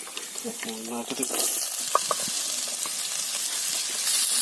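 Curry leaves and mango ginger crackle and sizzle in hot oil for a homemade mango ginger pickle, a steady frying hiss with short pops, opening with brief speech-like tones before the sizzle settles in.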